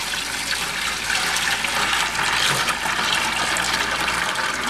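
A gallon of sanitizer glugs out of a plastic milk jug into a fermenter bucket, a continuous close gushing splash of liquid that holds steady throughout.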